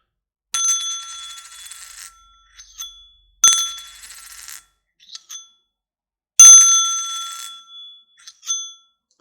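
A 10 pence coin dropped onto a hard surface gives three separate bright metallic rings. Each ring decays over about a second, with small bounce chimes between them, and the clip is quiet otherwise.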